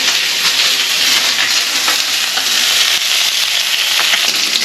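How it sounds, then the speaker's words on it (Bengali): Bhola fish frying in hot oil in a pan, turned over partway: a loud, close, continuous sizzle with faint stirring ticks throughout and no speech. "কড়ার তেল গরম হয়ে গেছে মাছগুলো দিয়ে মাছগুলো একদিকে ভাজা হয়ে গেছে এবার উল্টে নিই"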